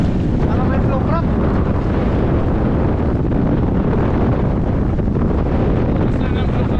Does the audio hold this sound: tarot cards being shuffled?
no